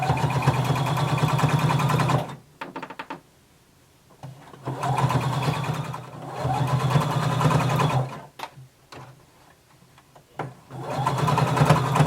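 A sewing machine stitching a collar seam on a Simplicity pattern garment in close, steady bursts of whirring stitches, with pauses between runs.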